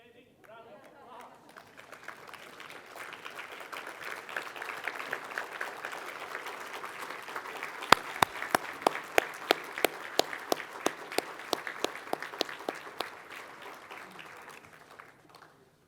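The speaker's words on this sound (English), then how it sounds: "can we give this fine lady a standing round of applause?" Standing ovation from a banquet audience at an interfaith convention, a long swell of many hands clapping that builds, holds with sharp near claps standing out, then fades away.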